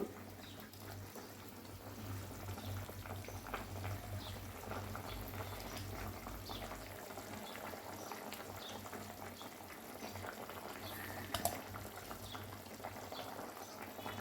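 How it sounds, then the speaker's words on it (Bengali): Fish curry gravy with vegetables for parshe fish bubbles at a steady, soft, continuous simmer in a pot, heard alone with no talking. "ঝোলটা তো ফুটে উঠেছে"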